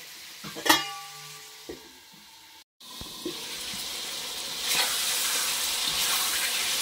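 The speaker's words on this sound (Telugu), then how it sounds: "కొంచెం ఈ నూనెలో ఈ మటన్ ముక్కలన్నీ వేగాలి." Mutton pieces frying in oil in a kadai for mutton curry: a few clanks of stirring at first, a brief dropout, then a steady close hiss of sizzling that swells louder near the end, with no talking.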